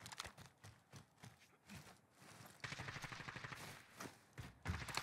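Rapid gunfire bursts in the Warzone video game, sharp repeated shots in quick clusters with short pauses, then a denser stretch of firing, fairly faint overall and heard alone without talk.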